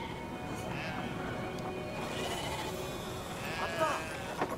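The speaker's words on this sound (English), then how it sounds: "Just put a sheep in the hamster wheel." A sheep bleats in a video game, with a couple of short wavering cries near the end over a steady bed of game ambience and faint voices.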